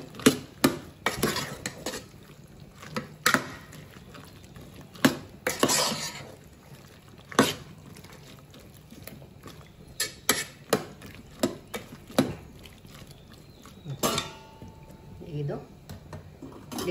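A spoon stirring masala in a cooking pot for veg dum biryani, giving irregular sharp clinks and scrapes against the metal with quieter gaps, while a voice talks.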